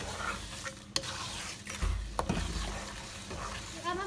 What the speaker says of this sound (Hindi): ये हमने इसमें अपने चने डाल लिए और अब हम इसको हिलाएंगे